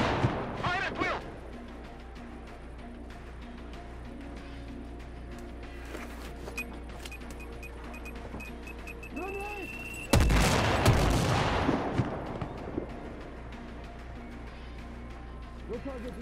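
Gunfire from Sniper Ghost Warrior 3 during a battle: scattered shots and distant booms, then a loud close blast that dies away slowly, with voices shouting throughout.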